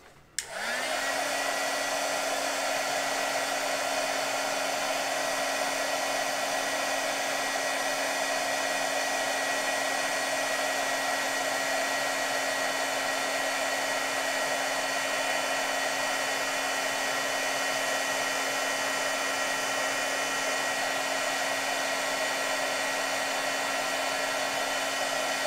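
A heat tool blows steadily while heat-setting white embossing powder for a stamping project. The whir starts abruptly and runs as one continuous, even, fairly close tone with a high-pitched whine and no talk over it.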